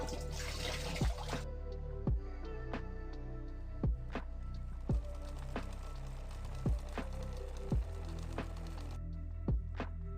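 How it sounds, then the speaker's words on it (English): Water drips from a village well in the city-builder game Settlement Survival, with single clear drops falling about once a second in a steady rhythm over a soft liquid background. "Water is dropping."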